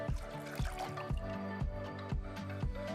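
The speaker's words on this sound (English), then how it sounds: "Step 1, I'm going to wash my face just with warm water." Warm water splashes and drips as a face is washed by hand, a quiet run of wet splashes and trickles in short irregular bursts, close and alone.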